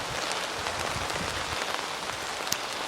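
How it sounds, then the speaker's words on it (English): Heavy rain pours down steadily on a garden polytunnel, a dense, close patter of drops drumming on the covering with occasional louder hits, continuous and with no voices. "soon had to shelter in the polytunnel as the rain came down with a vengeance"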